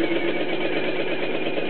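Petrol-powered generator engine running, a loud, steady, even drone with no change in pitch throughout.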